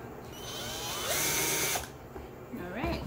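Power drill driving screws into a wooden clutch purse frame, a close whirring burst that rises and falls over a few seconds, with faint handling noise around it.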